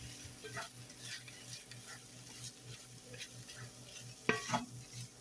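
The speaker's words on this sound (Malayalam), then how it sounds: "ഇനി എല്ലാം കൂടി ഒന്ന് മിക്സ് ചെയ്തെടുക്കാം." Mashed potato mixture for chicken cutlet being stirred in a pan, quiet repeated scraping and soft frying underneath, with a couple of sharper spoon knocks near the end.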